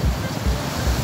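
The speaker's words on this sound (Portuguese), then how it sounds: "Vento tá atrapalhando." Gusty wind buffets the microphone on Ferradurinha beach in Armação dos Búzios during a fishing trip, with loud rumbling bursts and surf washing behind it and no voices.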